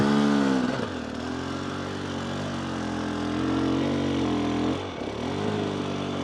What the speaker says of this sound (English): Clutch control, just feeling the bike point.